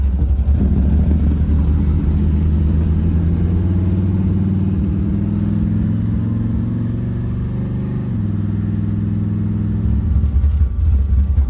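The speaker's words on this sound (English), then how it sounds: "I gotta drive my street car" A silver third-generation Camaro street car drives along with a loud, steady engine rumble that holds at a medium pitch and eases slightly partway through, heard close up with no talking.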